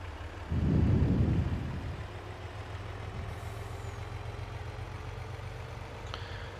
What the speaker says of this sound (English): I had to take my mod Oshkosh truck to make progress.